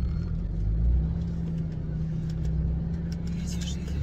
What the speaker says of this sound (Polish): O nie, auto jedzie.